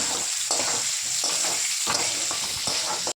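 Egg kosha ingredients, boiled potatoes with salt and turmeric, fry in hot oil with a steady, loud sizzle and occasional stirring scrapes throughout, no voices.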